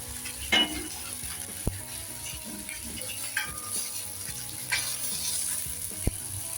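Fish roasts in oil on a flat dosa pan, giving a continuous close sizzle with a few light clinks of a utensil against the pan.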